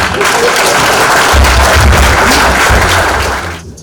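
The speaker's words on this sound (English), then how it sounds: "A round of applause again." An audience at a talk on Nigeria's economy breaks into loud, sustained applause with low thumps in the room, ending abruptly after almost four seconds.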